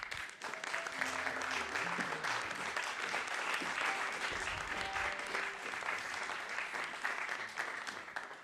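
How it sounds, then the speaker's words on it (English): An audience claps steadily and warmly for an orchestra, sustained applause filling the room at an even level from start to finish. "Please give a first applause."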